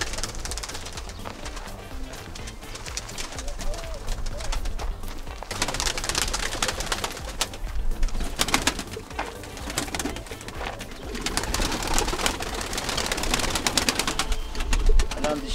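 Pigeons in a loft cooing repeatedly, with overlapping soft coos and wing flutters close by, plus scattered handling noise and rustling.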